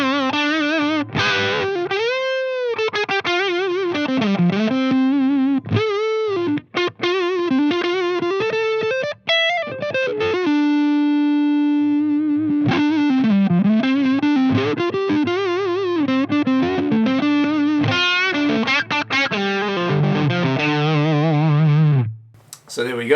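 Cranked Mesa Stiletto Deuce guitar amplifier in 50-watt mode, heavily distorted lead guitar with effects, sustained bends and fast runs playing loud and continuous for about 22 seconds before a brief drop near the end.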